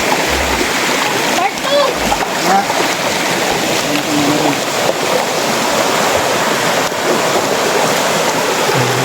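Rushing river water near a waterfall at Purok Waterfalls, a loud, steady broadband wash with splashing over large rocks, continuous throughout, with a brief voice in the clip.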